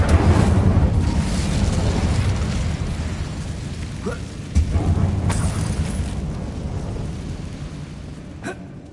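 The Incendio fire spell cast in Hogwarts Legacy sets off a loud, rumbling whoosh of flame with booming bursts. It fades and swells again, and sharp crackles follow near the end.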